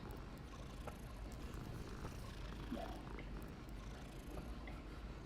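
Cat purring in Hogwarts Legacy, a steady low rumbling drone, faint and continuous under background noise.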